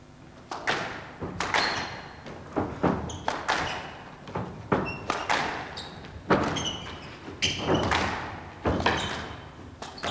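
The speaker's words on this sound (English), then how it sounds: "A couple of good drop shots there." Squash ball struck in a rally during the 1991 World Open final, a run of sharp thuds off racket and walls in an irregular rhythm, close and clear, echoing slightly in the court, with a few quiet voices.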